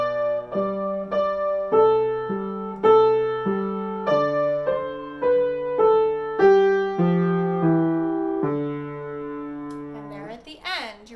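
A piano plays the third line of Au Clair de la Lune, all four measures, as a slow, even run of single sustained notes with a simple lower accompaniment, clear and close, ending with a brief shuffle of noise.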